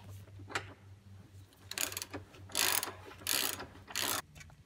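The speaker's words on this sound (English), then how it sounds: "I'm going to use my 3/8 inch extension and my 18 millimeter socket to" Ratchet with a 3/8 inch extension and 18 mm socket undoing suspension bolts on a Corvette during a magnetic damper replacement, giving faint bursts of rapid clicking in several short strokes over a low steady hum.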